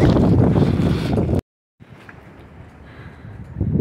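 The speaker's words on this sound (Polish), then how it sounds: "teraz tak wieje" Wind gusting outdoors on a farm in cold weather, a loud rushing blast that cuts out abruptly, then returns as a steadier, softer roar with buffeting against the microphone.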